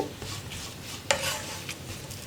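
Potato fry pieces coated in masala being stirred in a pan over low flame, with a soft continuous scraping and faint sizzle and one sharper clink of the spoon against the pan partway through.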